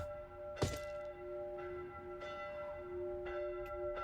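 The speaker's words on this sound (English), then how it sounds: "The ringing of bells falling softly from the sky." Distant bells ring softly and steadily from the sky in the Tsukihime visual novel, with a sustained tone and a few struck notes, heard alone.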